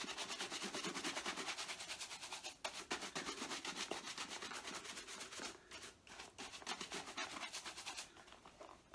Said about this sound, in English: I have got another brush here, which is a horsehair brush.